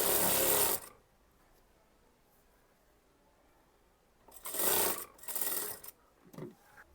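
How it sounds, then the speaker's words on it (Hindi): A sewing machine stitches a folded kurti seam in short bursts: a loud run at the start, then quiet, then two more runs and a brief final burst near the end, with no talk. "ये फोल्ड करते वक्त आपको मशीन का सिलाई भी बड़ा कर देना है ताकि फटाफट यहाँ सिलाई हो सके।"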